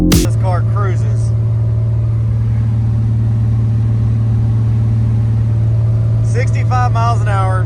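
A V6 Chevette cruises on the highway at about 65 mph and 2200 rpm, its engine a steady, loud low drone heard from inside the car. Someone speaks briefly at the start and again near the end.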